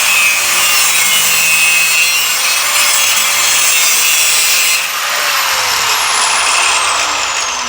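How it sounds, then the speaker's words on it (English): A power tool cuts a Corvair oil plate being shortened for an 8-plate to 12-plate oil cooler modification, making a loud, continuous grinding whine that changes pitch partway through, with no talking. "I'm going to cut it a little shorter and go back and flap it."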